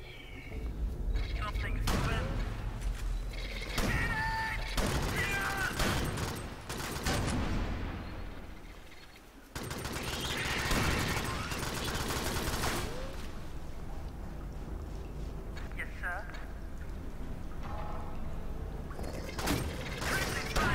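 Rapid bursts of gunfire from the sci-fi shooter Alien Swarm, dense and continuous with mechanical clatter and impacts, mixed with game sounds and voices talking over the action.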